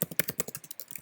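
Fast, uneven keystrokes clatter on a computer keyboard while a student name is typed into a Google Docs page, a dozen or so close, dry clicks in quick bursts with no voice over them.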